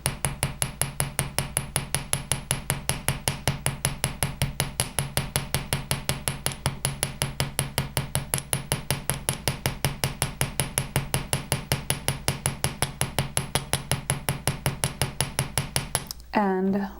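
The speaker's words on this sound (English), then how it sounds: "Now I can take my Precision Smith large embossing hammer and give it a little bit of texture." A Precision Smith large embossing hammer taps metal wire for a lily-and-leaf jewelry piece, striking in a steady, rapid run of sharp, loud metallic blows that continue for about sixteen seconds before stopping.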